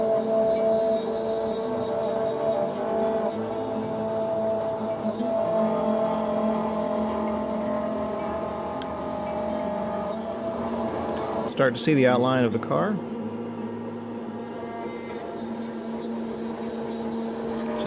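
A CNC router cuts wooden muscle car parts, giving off a steady, loud machine drone with a layered tonal hum that runs throughout. Someone talks over it, and a short, sharper burst of noise comes near the end.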